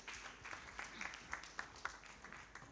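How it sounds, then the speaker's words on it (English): Distant audience applause at a social performance forum award ceremony for a second runner-up, a faint steady patter of many clapping hands echoing in a large room. "Let's give them a round of applause."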